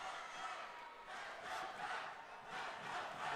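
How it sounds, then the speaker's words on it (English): A crowd at an amateur combat-sports fight night roars for one fighter, a distant, swelling mass of cheering and shouting that surges and eases without letting up. "The crowd really getting behind Pat Seidel."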